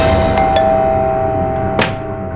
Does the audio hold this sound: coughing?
no